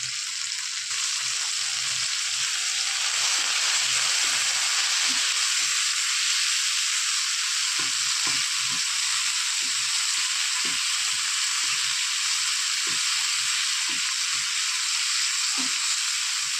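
Ingredients for a brinjal and dry fish gravy sauté in a pan, a constant close frying hiss running throughout with repeated soft scraping knocks of a spoon stirring.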